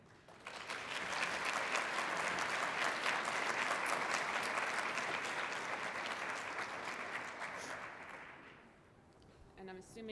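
Welcoming applause from a conference audience gathered for a talk on the history of PKU: steady, dense clapping for about eight seconds that then fades out, with a voice speaking briefly at the end.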